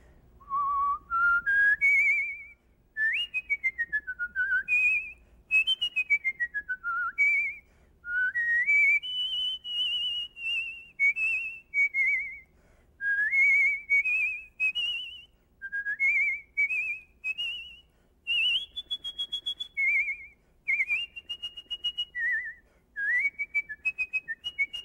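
A person whistles the Queen of the Night aria from Mozart's Magic Flute a cappella in a high key, clear bright phrases with florid leaping arpeggios and short pauses between runs, close and solo.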